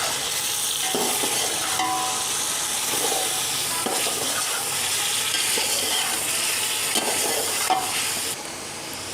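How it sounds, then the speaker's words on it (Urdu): Spices and red chilli stirred in a sizzling biryani pot, a steady frying hiss broken by repeated scraping strokes of a spoon, close and continuous, with no one speaking. "اور اس کو اچھی طرح ہلا لیں گے"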